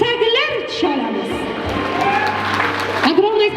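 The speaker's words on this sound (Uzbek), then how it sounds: "guldiroz to'yona qarsaklar chalamiz" Wedding guests in a banquet hall applaud in a dense crowd roar with some cheering, while an emcee's voice and music carry loudly over the clapping.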